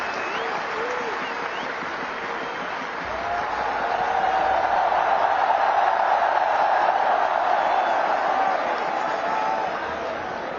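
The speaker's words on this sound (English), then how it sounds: "receive a big round of applause from everyone" A large gathered crowd applauds BCCI office bearers at a celebration of India's 2024 T20 World Cup win, a steady wash of clapping that swells louder midway and holds.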